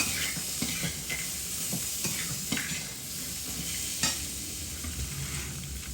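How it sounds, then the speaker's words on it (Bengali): Eggplant and potato pieces fry in hot oil in a pan, a continuous close sizzle and hiss broken by scraping stirs and occasional soft knocks. "তো বেগুন আর আলুটা এই যে ভাজা করে নিচ্ছি।"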